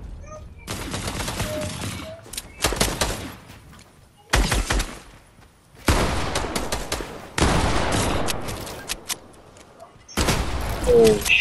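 Bursts of rapid video game gunfire during a shootout, loud and close, coming in several sustained volleys separated by brief gaps.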